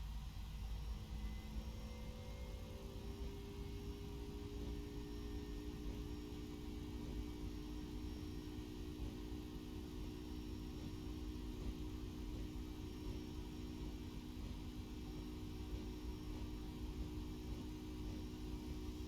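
A simulated airliner's engines roar steadily during takeoff in the X-Plane 12 flight simulator, a constant broad rumble with a rising tonal whine at the start that then levels off, with no speech.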